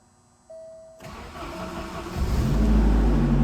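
A 1991 Saab 900 SPG cold-starts: after a moment of near silence the starter cranks briefly, then the engine catches and builds into a loud, steady idle, heard close up.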